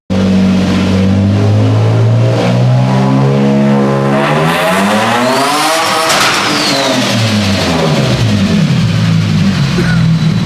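A turbocharged Nissan G35 engine pulls hard and loud, its pitch climbing steadily toward the 7,000 rpm rev limit, then dropping back as the revs fall, with a faint turbo whistle.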